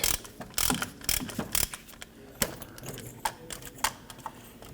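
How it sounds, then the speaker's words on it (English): A ratchet with a 24mm socket works loose the oil pressure switch on a 2017-2020 Hyundai Elantra, a close run of rapid clicking ratchet strokes in short bursts, then lighter scattered clicks, with no talk. "Now I'm going to use a 24mm socket to go ahead and loosen that."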